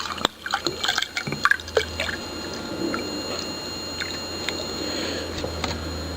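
Dit Da Jow liniment liquid is poured into a container, heard close and quiet as irregular drips and splashes that turn into a softer, steady trickle of filling.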